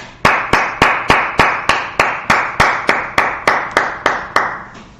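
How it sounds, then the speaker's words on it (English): Audience clapping at a closing Feast of Dedication gathering, about fourteen sharp, evenly spaced claps in a steady rhythm, fairly loud and close, with no voices over them. "we're gonna go ahead and clap it up."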